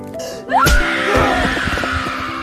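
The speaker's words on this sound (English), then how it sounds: "Rue let out a high-pitched scream, shoved the guards away, and half-shifted." A woman's high-pitched scream as a drama sound effect, a loud, close shriek that bends upward and holds for about two seconds over faint background noise.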